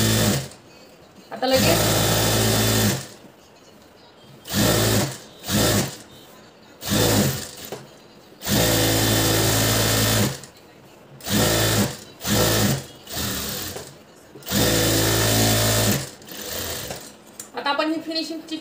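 Sewing machine topstitching the finishing edge on a blouse lining, running in repeated loud bursts of steady whirring separated by brief pauses, with someone speaking between stitching runs.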